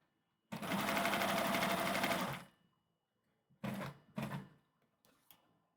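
A sewing machine stitching a chicken kigurumi onesie runs in a close, steady burst of about two seconds, followed by two shorter bursts and a faint final tap, with quiet pauses between.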